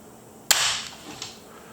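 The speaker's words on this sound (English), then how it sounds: "So we're going to pull the set trigger, and now let's check the trigger pull with the set trigger." A flintlock's set trigger is pulled, giving one sharp, close mechanical snap followed by a brief ringing decay and a fainter second click.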